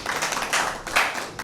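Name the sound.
audience applause at a poetry gathering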